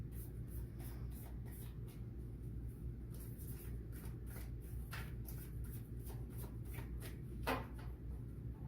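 Tarot cards being shuffled by hand, soft faint papery riffles and taps repeating over a low steady room rumble, with no talk.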